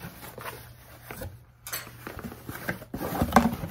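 A knife cuts through the taped seams of a cardboard box in short scraping and tearing bursts, with some light rustling and knocks, close and fairly quiet.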